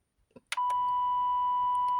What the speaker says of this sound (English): when we press here, you can hear this beeping sound